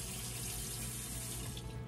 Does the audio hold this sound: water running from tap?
yes